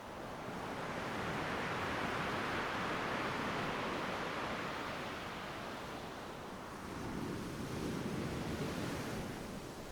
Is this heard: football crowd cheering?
no